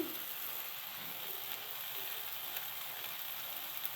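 Cumin powder dropped into a hot pan of frying oil, giving a steady, close sizzle and crackle with no voices.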